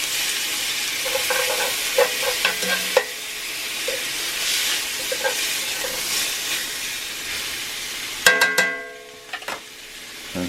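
Pork chops frying in a cast iron pan, a steady broad sizzle with occasional clinks and scrapes as they are turned, then a sharp burst of louder crackling near the end.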